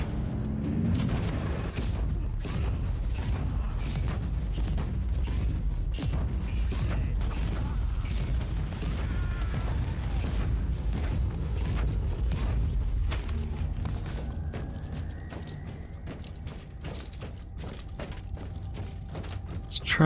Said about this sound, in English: that rocket barrage is Something scary.